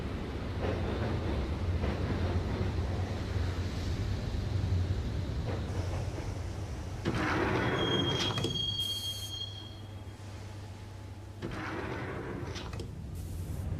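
A train in the video game Max Payne rumbles along steadily, with a high metallic squeal partway through and the clatter of cars on rails, then quieter rolling.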